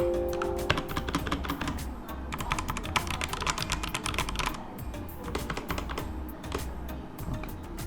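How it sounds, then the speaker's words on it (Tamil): Rapid, steady typing on a Redragon Kumara K552 mechanical gaming keyboard, dense clacky keystrokes close up and continuous for several seconds, no voices. "அந்த சவுண்டோடு டைப் பண்ணும்போது சூப்பராக இருக்குது, கம்ஃபர்டபுளாக இருக்குது"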